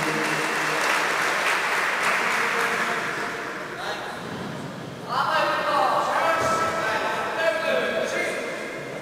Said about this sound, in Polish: ale i tak brawa za wspaniałą walkę